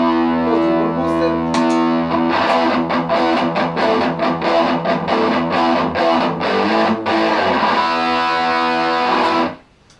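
Electric guitar played through a Fryer Treble Booster into a Pathfinder 15 amp, a bright, distorted strummed chord pattern with sharp repeated attacks, loud and alone, ending abruptly with a cut-off.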